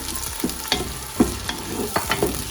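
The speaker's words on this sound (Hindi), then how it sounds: "अब मैं इसमें टमाटर ऐड कर रही हूँ।" Tomatoes go into a pan of frying mustard-greens masala, giving a steady sizzle broken by several sharp scraping stir strokes, close and fairly loud, with no talk.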